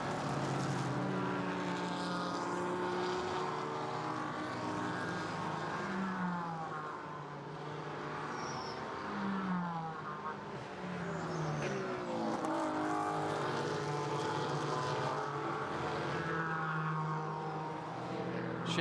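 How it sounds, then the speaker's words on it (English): Sports cars in a 2022 race at Lime Rock Park, engines screaming with rising and falling pitch as several cars accelerate out of the final corner and pass in succession, sustained and fairly close. "Now that Turner Motorsport car coming out of the final corner at turn 7"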